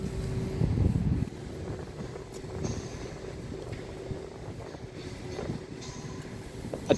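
Class 156 diesel train running through Nottingham station, a steady low rumble with rail clatter and some wind noise on the microphone, moderately distant and with no talk.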